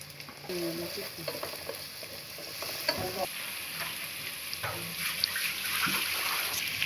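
Ginger and garlic paste frying with carrots and vegetables for a shortcut biryani, a close steady sizzle broken by repeated scraping and stirring strokes of a spoon in the pan.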